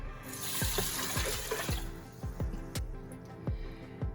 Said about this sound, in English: So I'm gonna add 2 cups of water.